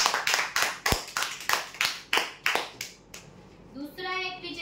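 An audience at a weekly prize draw applauds a winner of a steel office cupboard with steady rhythmic claps that stop after about three seconds, followed by a brief voice.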